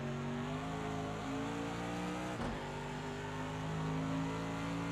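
A Mercedes AMG GT3 engine at Bathurst in Project Cars 2 holds a loud, steady, close roar with shifting pitch and a brief dip as the throttle eases, continuous and without talk.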